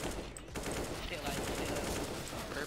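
Dense, continuous gunfire in CS:GO crackles in rapid automatic bursts at steady loudness, blending into a noisy wash of shots with no clear pauses.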